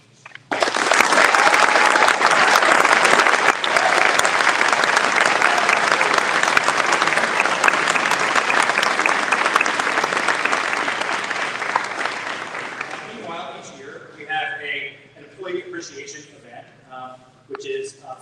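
A school awards audience gives teachers a long, loud burst of applause that gradually fades, after which a voice begins speaking.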